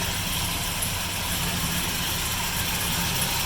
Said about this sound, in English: we've got the 350 small block in there